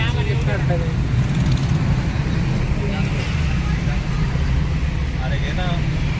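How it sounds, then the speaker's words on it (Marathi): Car engine and road noise while driving, a steady low rumble throughout with people talking over it. "गाडीचा आवाज कसला येतो बरं?"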